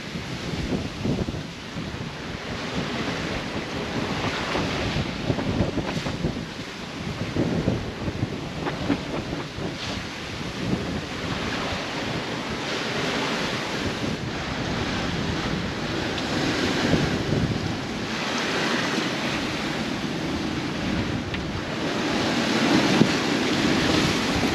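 Steady, roaring wind and rushing ocean waves surround a sailboat on the Tasman Sea. The sound is a continuous, loud wash with gusting swells and no voices.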